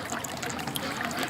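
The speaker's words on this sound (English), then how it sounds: "the water running there, guys, the idea is that the water line won't freeze" Water trickling steadily from a line kept running so it won't freeze at an outdoor duck pen, a continuous close splashing stream.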